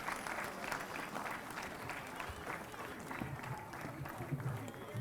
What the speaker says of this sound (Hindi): एक हाथ भी खामोश न रहे, जोरदार तालियां बजाकर आदरणीय अभिजीत भट्टाचार्य जी।